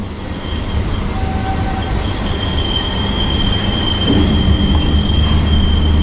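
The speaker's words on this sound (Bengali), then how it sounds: "যেই ট্রেনে আমি ট্রাভেল করছি" A Howrah local train runs on rails with a loud, steady roar of wheels, a faint wheel squeal and rumble that builds slightly over several seconds.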